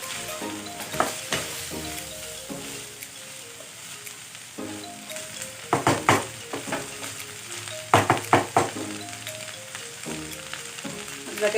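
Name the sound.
stirring chicken bopis frying in a pan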